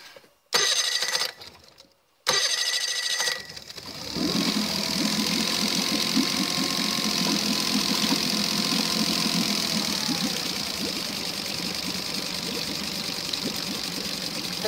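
A Tohatsu EFI outboard motor starts after a couple of short cranking bursts, then settles into a steady, loud, close idle with a busy mechanical chatter that carries on to the end.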